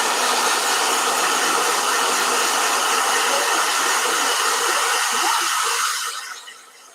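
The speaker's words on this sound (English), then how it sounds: "Okay, blow dryer." A blow dryer runs steadily and loudly with a broad, constant airy roar, then powers down and fades near the end; nobody speaks.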